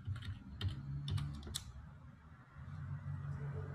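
Computer keyboard keys clicking in a short cluster of quick taps, then a pause and a few more faint presses, quiet against low room hum.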